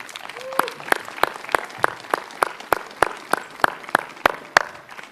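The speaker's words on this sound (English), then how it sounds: "Can we give them all a huge round of applause?" Applause at the Indian Hill High School 2020 commencement comes as sparse, evenly spaced sharp claps in a steady rhythm, fairly close and loud.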